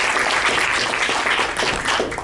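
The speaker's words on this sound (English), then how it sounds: "Please give him a round of applause." An audience claps steadily for a speaker at a university anatomy presentation, a dense, loud wash of applause that holds at full level throughout.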